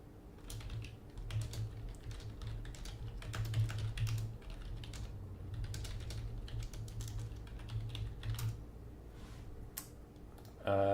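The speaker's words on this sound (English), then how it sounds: "I was just typing to the players" Quiet, rapid clicking of a computer keyboard as someone types continuously, keystrokes pattering irregularly over a low steady background hum with no speech.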